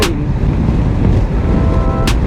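Honda ADV350 scooter engine on a test ride, a steady loud low rumble mixed with road and wind noise, close and continuous.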